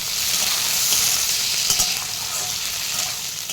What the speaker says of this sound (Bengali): এইবার দিয়ে দিচ্ছি আগে থেকে কেটে রাখা একটা টমেটো কুচি